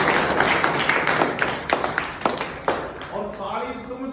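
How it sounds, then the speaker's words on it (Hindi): Audience clapping at a motivational talk, a run of sharp claps building over a few seconds under a speaker's voice, then fading as talk continues. "तो ताली बजती है इस बात"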